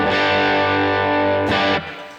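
A guitar through the IC-based drive side of a Chase Bliss Brothers pedal rings out as one sustained, gritty distorted note that cuts off abruptly after about two seconds.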